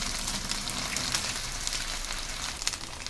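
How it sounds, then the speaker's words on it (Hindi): Cut soya chaap pieces fry in hot oil over a medium-to-high flame, giving a steady, dense crackling sizzle close by, evenly sustained with no talking. "ये इस टाइप से हम मीडियम टू हाई फ्लेम पर इनको फ्राई कर लेंगे"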